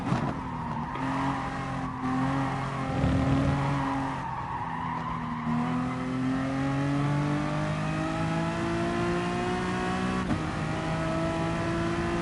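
Race cars in GT Sport rev hard and shift through gears, with steady engine drone, rising pitch sweeps and tire squeal throughout, loud and continuous with no talking.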